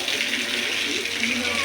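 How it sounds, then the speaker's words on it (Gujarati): A water fountain runs during rainy weather, giving a steady, even rush of splashing water at close range with a voice murmuring partly over it. "તમારે જો કાજલબેન કેમ બાકી ફુવારો ચાલુ કરી દીધો ને વરસાદનું વાતાવરણ છે."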